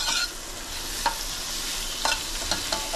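Ginger paste gets stirred into a tomato masoor dal cooking in a pan, with a few sharp spoon scrapes over a steady background hiss and no voices.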